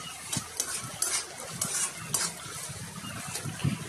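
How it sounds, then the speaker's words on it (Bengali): Paneer pieces fry and sizzle in a pan while a utensil stirs them. The spatula gives repeated scraping, clinking strokes over a steady, soft frying hiss, with no talking. "এই পনিরটাকে দিয়ে ভালো করে একটু ভেজে নেব।"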